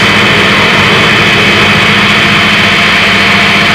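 A generator runs steadily with its belt turning the alternator, a constant loud mechanical hum and whir close by, with no talk over it.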